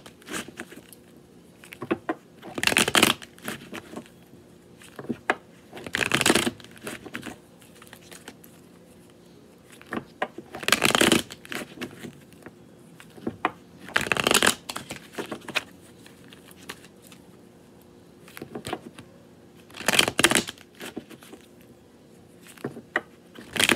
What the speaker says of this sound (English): The very first card is the Ace of Pentacles.